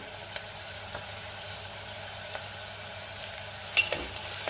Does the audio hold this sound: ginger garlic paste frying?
yes